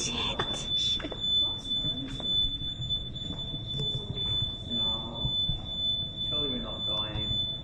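A smoke or fire alarm shrieks at a university building, a piercing continuous high tone sounding throughout while people talk nearby.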